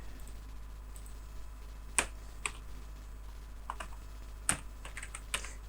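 Scattered keystrokes on a computer keyboard, a handful of sharp isolated clicks spaced irregularly against a quiet background hum, with no voices.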